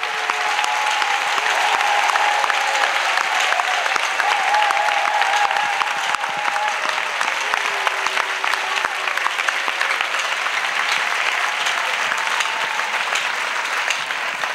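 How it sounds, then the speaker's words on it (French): Congregation at a church service applauding together, a dense, steady wash of many hands clapping that fills the room from start to finish at an even level. "Clap for Jesus."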